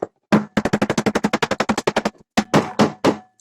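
A hammer hits a whole coconut hard and fast, about twenty sharp, close knocks in a steady run, then a short pause and three more spaced blows.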